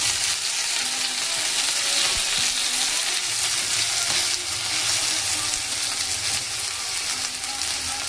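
Spices frying in oil in a pan for a spring onion dish, a dense, loud, continuous sizzle close up with faint stirring knocks underneath and no voices.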